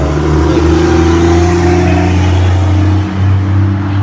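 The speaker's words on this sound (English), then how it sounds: "There's always a truck or a loud car" A loud car engine hums close by, a low steady drone that swells slightly as the vehicle passes.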